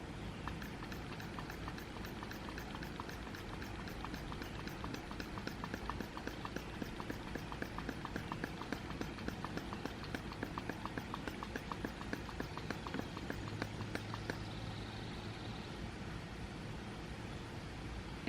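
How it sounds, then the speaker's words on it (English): Hand pumping of a syringe on a homemade mason jar goat milker, a rapid, steady series of soft close clicks and puffs continuing for many seconds. "I'm going to test this out by putting my thumb over the syringe, over the hole of the syringe, and pumping this"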